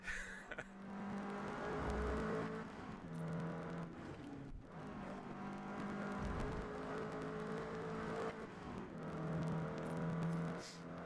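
A racing car engine in the Forza Motorsport racing game, revving and whirring continuously as it climbs through gears, with tonal shifts and brief lifts between pulls, loud and close throughout.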